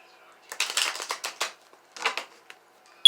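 Playing cards riffle-shuffled in several quick bursts, close and crisp, with a short pause before a final pair of riffles and a sharp tap at the end.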